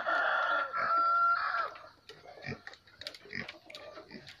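Up close, a long-legged fighting decoy rooster lets out one sustained crow, followed by irregular soft clucks and rustling, with a person's voice faintly mixed in.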